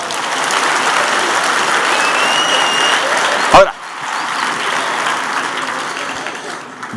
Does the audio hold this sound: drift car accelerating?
no